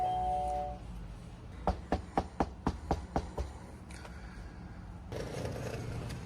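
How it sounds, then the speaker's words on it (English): A doorbell rung at the door of a Houston townhouse gives about nine quick, sharp electronic chime strikes in a steady rhythm, fairly close and clear, with a low hum behind them and faint street noise. "We've rang his doorbell numerous times, and we're going to do it"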